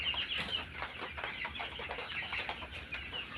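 Twenty-day-old broiler chickens cluck and peep softly inside a shed in winter, a faint continuous chorus of overlapping bird calls with no voices.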